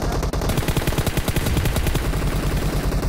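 Rapid gunfire in an online shooter match, a fast burst of loud close automatic shots in steady rhythm lasting about three seconds, with no talk over it.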